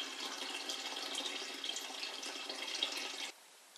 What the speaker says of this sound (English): I just using some water to